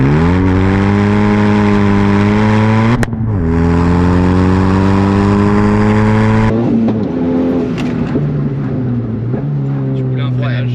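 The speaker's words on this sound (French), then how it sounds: "je voudrais bien revoir encore une Accel en 2 puis un bon freinage pour voir ce que ça donne de 4 pistons là-dessus" A Megane hatchback with a four-piston brake upgrade revs hard in second gear, its engine note climbing loudly through the gear up close, then easing off as the car brakes firmly, with a voice speaking over the end.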